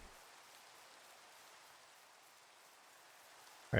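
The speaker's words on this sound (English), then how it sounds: "Rain." Steady, soft hiss of rainfall in Minecraft, even and unbroken, ending with a brief louder bump.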